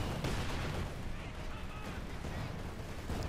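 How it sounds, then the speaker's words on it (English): Grenades exploding in Company of Heroes 2, a World War II strategy game, heard as a dense, continuous rumble of blasts and gunfire across the whole moment rather than distinct single bangs. "Grenades going off here, doing some serious damage to the rations."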